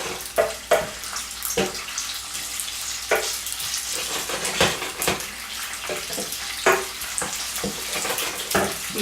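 Garlic frying in hot oil in a pan while being stirred: a steady wet sizzle broken by intermittent scraping clacks of the utensil, close and moderately quiet.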